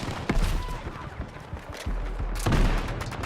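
Video game gunfire in a Battlefield match, rapid bursts of close, sharp shots and booms in quick succession, with a player's voice mixed in.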